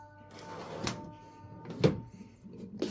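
A door on a homemade wooden desk with drawers and built-in power sockets swings open, giving a few soft knocks and clicks spaced about a second apart in a quiet room.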